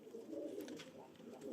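Pigeons in a loft coo in low, soft, rolling calls close by, a continuous murmur with faint shuffling and no clear speech.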